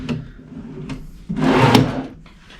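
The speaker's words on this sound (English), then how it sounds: "And what I do like is that these drawers are soft close." Soft-close wooden drawers in a luxurious deluxe room at the Grand Hyatt Singapore slide shut, a brief knock followed by a longer muffled sliding thud, close and fairly loud in a quiet room.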